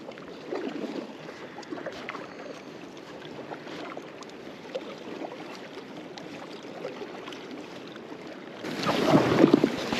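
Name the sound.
kayak paddling on water toward a glacier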